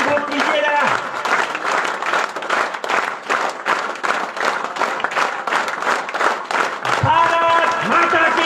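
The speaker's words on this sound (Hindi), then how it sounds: "अरे जरा तालियों को घनीभूत कीजिए जरा" Crowd applause at a Swaraj Amrit Mahotsav gathering in Chaubara Jagir, India, a dense steady wash of clapping mixed with voices and chanting that continues throughout.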